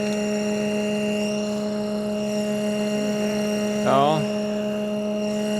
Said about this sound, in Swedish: Då går han, gör han ett nytt försök och lyfter själva